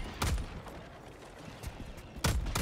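Helldivers 2 gunfire: two separate bursts of rapid, sharp shots a couple of seconds apart, fairly quiet and distant-sounding, with low rumbling background between them.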